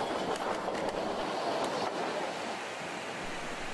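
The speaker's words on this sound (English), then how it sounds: "Eureka is once again on the move as it passes the siding at Tacoma." Steam locomotive Eureka rolling past the Tacoma siding on the Durango & Silverton narrow-gauge railroad in the Rockies, a steady broad rumble and rush of moving train with faint clanking, heard from nearby without voices.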